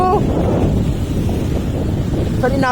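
Strong wind buffets the microphone at a beach, a loud, constant low roar with a brief voice at the start and end.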